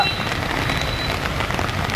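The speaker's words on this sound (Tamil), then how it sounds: "ஒற்ற மழையில் நின்று நாங்கள் இப்போ இந்த படத்தை பதிவு செய்கிறோம்." Steady rain falls outdoors as a dense, continuous hiss with fine patter, loud and unbroken throughout, with no voices.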